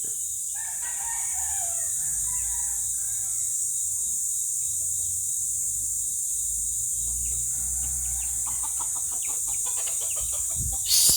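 A rooster crows, followed by softer clucking and scratchy background noise, with a steady high insect-like hiss throughout.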